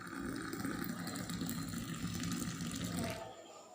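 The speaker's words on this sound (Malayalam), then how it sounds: "ഇനി നമ്മൾ തിളപ്പിച്ച് വെച്ചിരിക്കുന്ന നല്ല ചൂട് പാല് ഇതിലേക്ക് ഒഴിക്കുകയാണ്" Hot boiled milk poured into coffee for a homemade cappuccino, a steady liquid stream running close and continuous for about three seconds before tapering off.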